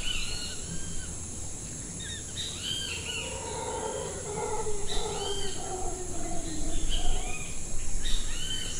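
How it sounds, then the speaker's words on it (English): Several different jungle birds chirp and call in a dense outdoor soundscape, with a steady high insect drone and distant rustling throughout. "Sounds of the different birds in the area"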